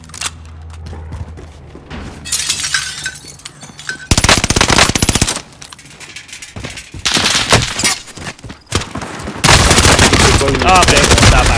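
Call of Duty Warzone gunfire on Rebirth Island, with loud repeated automatic bursts in several long volleys and brief pauses between, close and dominant, with players talking in the pauses.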